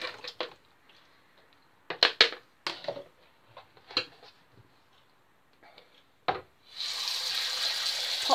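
A few light clatters and knocks of food being handled in a sink give way to a tap turned on, its running water gushing steadily and loudly under the faucet as the food is rinsed.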